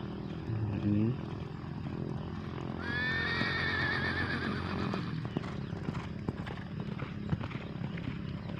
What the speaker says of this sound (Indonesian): sudah ada 3 ekor kuda yang sedang berlatih.